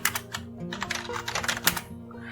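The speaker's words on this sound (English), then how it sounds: "I am typing as localhost" Rapid, uneven clicking of computer keyboard keys being typed on, close and fairly quiet, with a low steady hum underneath and no talk.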